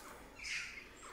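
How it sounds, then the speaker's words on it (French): Birds chirp among trees in green French countryside near a castle ruin: one faint, brief call over quiet outdoor ambience. "Et des oiseaux."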